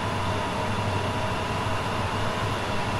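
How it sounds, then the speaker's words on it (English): Steady, loud diesel rumble of an SD40-2 locomotive in Train Sim World, a continuous low engine drone with rail noise that holds unbroken throughout. "Look at this beautiful SD4-2 locomotive."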